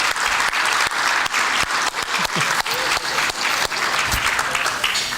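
Audience applause for Monica Lozano during a conversation event with Ambassador Ken Salazar: a dense, steady wash of many hands clapping, loud and sustained throughout, with faint voices mixed in.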